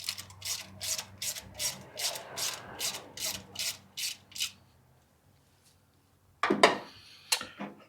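Repeated rasping, ratcheting strokes of a wrench tightening the V-band flange on a Pulsar turbo exhaust, about a dozen steady close pulses, then a pause and a couple of louder metallic clanks.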